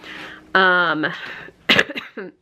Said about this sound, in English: Sorry, there's a big cough.